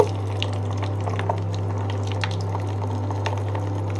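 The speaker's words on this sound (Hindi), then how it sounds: "तो चलो हम दाल को अब तेल के अंदर डालते हैं।" Moong dal fries in hot oil with a busy, steady bubbling and crackle over a constant low hum, with small pops scattered throughout.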